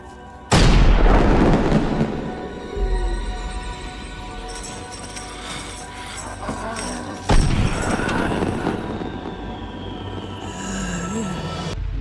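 New Year fireworks go off in loud booming bursts, one sharp blast near the start and another midway, each trailing into crackling rumble and lingering echo.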